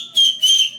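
A person whistles two sustained, bright notes in a row, loud and close, with a short break between them and no one talking over them.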